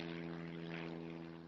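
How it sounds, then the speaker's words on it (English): An aircraft engine drones steadily and loudly with a strong tonal hum, close and continuous with no voices. "Many of them arrive on their corporate jets at the nearby Sonoma County Airport."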